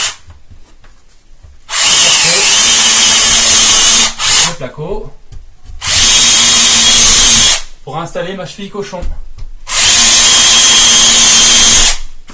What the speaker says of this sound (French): je vais tout simplement reprendre ma perceuse avec mon fourret